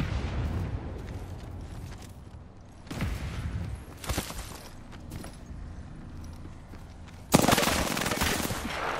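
Gunfire in an Apex Legends match on Broken Moon: scattered bursts of shots at mid distance, ending in a louder close volley, with a game voice faintly under the action.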